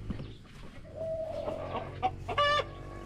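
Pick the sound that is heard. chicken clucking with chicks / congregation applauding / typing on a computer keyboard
chicken clucking with chicks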